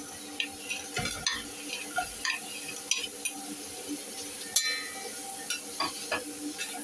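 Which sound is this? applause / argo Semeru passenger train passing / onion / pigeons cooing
onion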